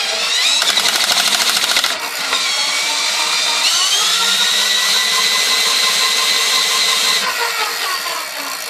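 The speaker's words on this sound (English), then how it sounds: "Crank the speed on the drill to maximum, but it'll still only be on power setting one instead of two, because it's with a battery." A battery-powered cordless drill spins at top speed in a steady, loud, continuous whine that shifts in pitch partway through, with no voices.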